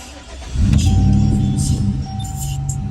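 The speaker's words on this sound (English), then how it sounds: "Let me start the truck back up." A truck engine cranks and catches, then settles into a low, rumbling idle, heard close up over a short moment.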